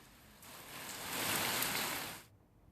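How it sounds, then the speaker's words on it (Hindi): Rain falls in Jaipur as a steady hiss that swells louder for a couple of seconds, then drops away abruptly, with no voices. "लगभग 2 दिन से ऐसी बारिश हो रही है"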